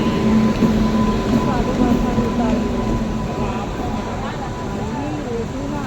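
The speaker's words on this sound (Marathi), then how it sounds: "आलेली आहे इकडे आपली ट्रेन" A Mumbai local train pulls in with a low steady rumble and rattle beneath a crowd of voices chattering nearby on the platform.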